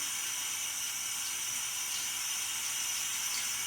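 Steady hissing stream of water poured or run onto a wet shaving brush, a continuous broadband rush at even loudness throughout with no breaks and no voices.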